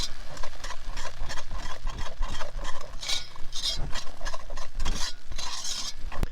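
Thickening gravy being stirred in a cast-iron camp oven over hot coals with roast chicken juices, a steady scraping and stirring loop over a soft sizzle, close and fairly loud with no talk.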